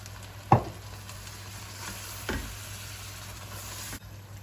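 Chana dal and bitter melon fry in oil in a pan as water is added, giving a sharp burst of sizzling followed by a second, softer hiss and a steady low frying crackle, with no talking.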